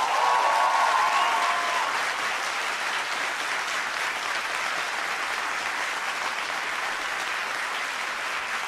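Full, steady applause rolls through a concert hall at the opening of a jazz concert, a dense even wash of clapping from a large crowd with a brief faint tone at the start.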